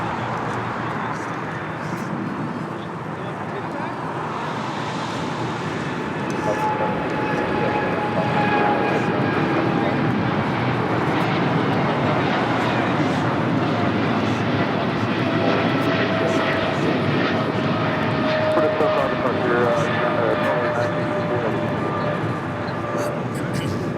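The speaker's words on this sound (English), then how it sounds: "This is DHL, operated by Polar Air Cargo 962, taking off to Cincinnati on a 777 freighter." A DHL Boeing 777 freighter operated by Polar Air Cargo takes off at LAX, a loud, steady jet roar with whining engine tones that swell and hold, while a voice talks over it.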